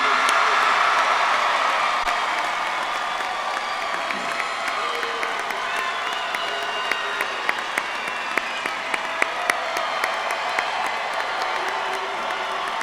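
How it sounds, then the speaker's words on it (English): Sustained applause and cheering from a large crowd at a Terry Sanford High School graduation ceremony, steady dense clapping with scattered whoops and shouts throughout. "give them a round of applause"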